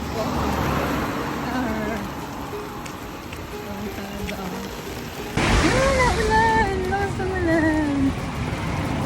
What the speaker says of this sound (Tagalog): Biglang buhos ng ulan. Tapos biglang lakas ng hangin.